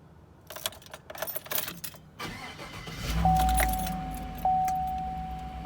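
A truck engine cranks and starts on a HALO Bolt jump starter after clatter and handling noises, then settles into a low steady idle with a thin electronic whine over it.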